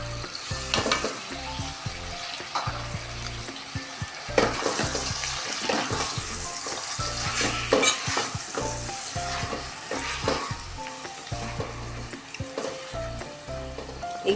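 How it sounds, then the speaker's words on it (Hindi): Garlic ginger paste frying with beef in a pot, a steady loud sizzle with repeated stirring scrapes throughout, no talking. "एक 2 मिनट तक लहसुन अदरक का पेस्ट डाल के हमने भूना"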